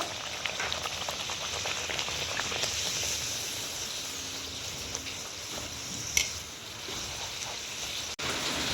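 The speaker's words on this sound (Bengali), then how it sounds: "এইভাবে আমি একে একে সবকটা লুচি ভেজে নেব" Palm luchi deep-frying in hot oil, a steady soft crackling sizzle that continues throughout with a few faint pops and clinks, no talking.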